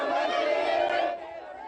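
Dense crowd of protesters packing a street in Lebanon, a loud, continuous roar of chattering and shouting voices that drops slightly in level near the end.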